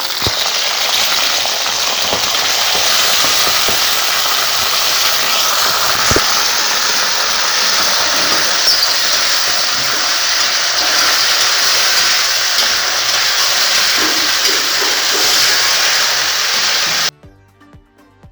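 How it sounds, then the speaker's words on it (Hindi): Peas sizzling steadily in hot oil in a home kitchen pan, a loud, even frying hiss that runs unbroken for most of the stretch before cutting off abruptly near the end. "थोड़ा सा पहले इनको तेल में फ्राई कर लेंगे ना तो ये गल जाएंगे"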